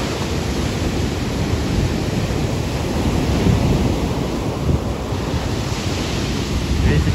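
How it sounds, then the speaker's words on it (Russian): Storm surf on the Sochi shore: heavy waves surge and crash in a continuous roar, loud and close, with strong wind buffeting throughout. "волна идет, побежали, видите?"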